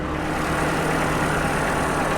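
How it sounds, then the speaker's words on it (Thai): A 2019 Toyota Camry 2.5 Hybrid Premium engine idles smoothly with its bay open, giving a steady, even low rumble and broadband hum that stays constant throughout with no voices. "เครื่องยนต์นิ่งสมูทเลยนะฮะ"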